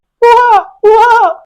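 A man mimics an owl's call, the bird locally called kalankozhi, with his own voice: two sustained, tonal hooting cries of similar length separated by a short pause, loud and close with no other sound.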